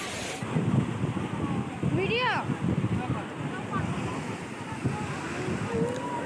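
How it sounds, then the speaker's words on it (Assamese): Sea waves washing onto the shore at Marina Beach in Chennai, a steady broad roar of surf with wind buffeting the microphone, and voices talking over it throughout. "ইয়াৰ ঢৌবোৰ চাকি ধুনিয়াকৈ উঠি আহিছে তাৰ পিছত আন এটা ঢৌ"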